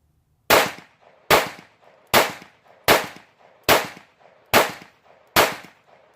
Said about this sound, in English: we're going to be shooting some more stingers through it